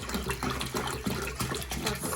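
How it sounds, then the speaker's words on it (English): Water is poured into a container while making aguas frescas, a steady close splashing and gurgling stream that fills out continuously without a break. "I'm going to add our water."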